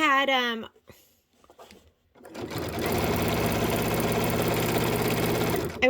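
A sewing machine stitches a locking stitch, a steady fast mechanical whir running for several seconds after a brief spoken voice and a pause.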